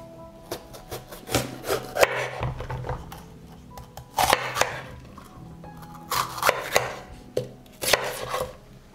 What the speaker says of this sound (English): I chop the pepper.